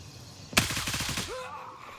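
A short, close burst of automatic rifle fire in the tactical shooter Gray Zone Warfare: about eight rapid shots in quick succession that cut off sharply, with a brief voice callout after them.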